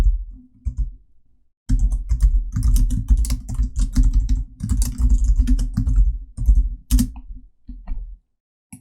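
Computer keyboard keys are pressed while working in Photoshop: a close, steady run of quick typing taps with brief pauses, heard alone with no talk.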